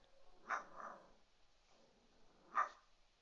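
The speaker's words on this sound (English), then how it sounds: "She's making weird, mean growls." A pet cat lets out two short, faint, low growls separated by a quiet pause, with soft breathy rumble between them.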